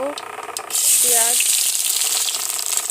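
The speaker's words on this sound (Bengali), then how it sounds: "পেঁয়াজ আর লঙ্কা দিলাম, একটু ভালো করে ভেজে নিই" Onions and chilies hitting hot oil with dried red chilies and nigella seeds for a dal dish, opening with a short voice, then a loud burst of sizzling that settles into a steady, bright frying hiss.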